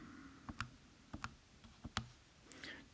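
Sharp, dry clicks of a calculator keypad being pressed, a handful of separate taps in an uneven rhythm, close up and quiet with no talking.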